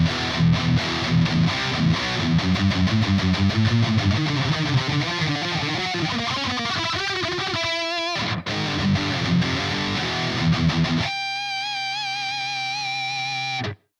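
Heavily distorted metal guitar through the original Cat Flower impulse response plays chugging palm-muted riffs that build to ringing chords, then a sustained chord that cuts off at the end, loud and close.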